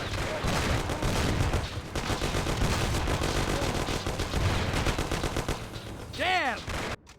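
A dense, continuous barrage of gunfire fills a shootout in the video game Mafia: The City of Lost Heaven, with rapid overlapping shots and bursts that are loud and close. A brief shout rises near the end.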